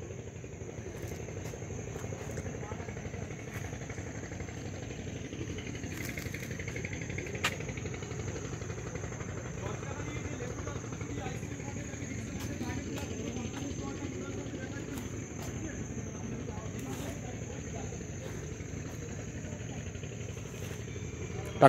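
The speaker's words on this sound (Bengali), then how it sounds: "দিনের বেলাতে ঝিঝি পোকার ডাক শুনতে পাওয়া যাচ্ছে।" Crickets chirp by day in a mangrove forest, the mini Sundarbans at Taki. A thin, steady high trill is faint behind a low engine-like hum and scattered clicks.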